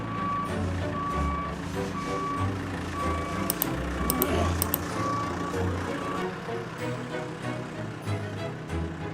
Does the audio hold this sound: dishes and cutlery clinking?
no